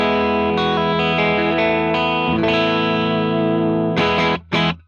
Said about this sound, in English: All right, the compressor is on. Middle pickup, this is what that sounds like.